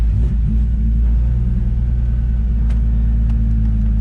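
A Nissan 350Z engine idles steadily after being started, a loud, continuous low rumble with a few faint clicks above it and no voices.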